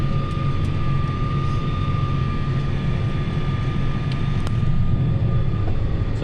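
A Claas 820 forage chopper engine runs with a loud, steady roar and whine, its droning note holding without a break while the machine works spreading manure on a farm.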